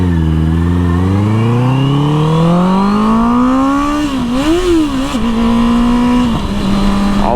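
Honda CBR650R motorcycle fitted with an Akrapovic exhaust revs up loud and close, engine pitch climbing steadily before wavering through a few blips and settling into a high sustained drone.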